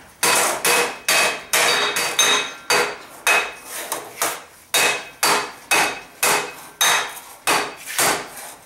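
A hammer repeatedly strikes a metal edge clamped over a scored line, bending it toward a right angle for a security door: loud, sharp, ringing blows in a steady rhythm of roughly two per second.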